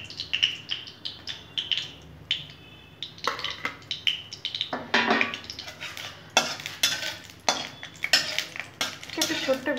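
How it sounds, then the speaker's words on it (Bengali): Dried red chillies fry in a pan while a metal spoon stirs them, producing repeated scraping and clinking strokes over a low sizzle, close and fairly loud. "দেখো শুকনো লঙ্কাগুলো আমি ভেজে নেবো লাল লাল করে।"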